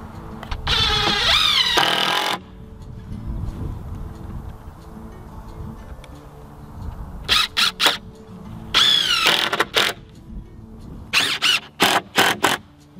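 A power driver sends screws into wooden raised garden bed boards, with loud whirring bursts up close: one long run, then several short stuttering pulses, separated by quieter gaps.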